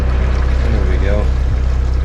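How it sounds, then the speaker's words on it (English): Water fills a tank on a farm with a loud, steady rushing sound. A low, constant hum sits underneath, and the noise runs unbroken throughout. "Getting some water filled up."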